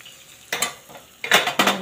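Hot tempering poured from a pan onto cooked dal khichdi topped with coriander, giving two short bursts of loud sizzling crackle, each starting sharply and fading, with a quiet pause between.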